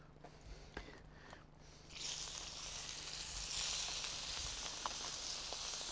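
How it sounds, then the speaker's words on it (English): Prawns sizzle on a barbecue grill, a steady bright hiss that starts abruptly after a quiet couple of seconds and holds close and fairly loud with small pops and crackles. "we're just going to put them straight on the barbecue and get them cooking"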